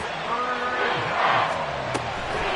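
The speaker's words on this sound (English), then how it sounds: "This crowd turning up the decibel level." A loud stadium crowd roars steadily at a Panthers versus Commanders American football game, a dense wall of distant cheering and shouting that swells slightly midway, with no clear talk above it.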